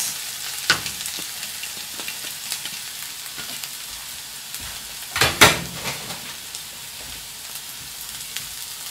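Eggplant frying in hot oil in a chef's kitchen, a steady close sizzle with scattered stirring clinks and a louder burst of crackling about midway.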